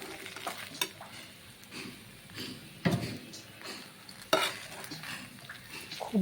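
A spoon stirs potol gobindo (pointed gourd) with ghee, garam masala and sugar in a pan, scraping and clinking against the metal with a soft sizzle beneath, and sharper knocks near the middle and late in the stir.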